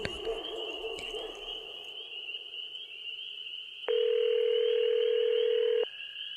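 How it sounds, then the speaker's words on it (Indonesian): A telephone ringback tone plays while a call waits to be answered, with a steady high tone throughout and one clear, lower, two-second tone burst partway through, heard alone without talk. "aku masih menunggu telepon untuk diangkat oleh orang tuaku"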